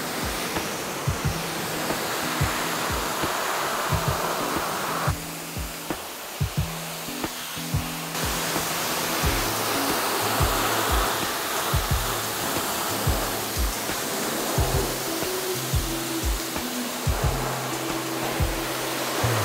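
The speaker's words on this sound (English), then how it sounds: "I'm just using my pressure washer to blast away that surface dirt and gunk" A pressure washer sprays the bonnet jam of a Nissan Skyline R34, a loud steady hissing jet that runs throughout, shifting in tone as the spray moves, with occasional low knocks underneath and no speech.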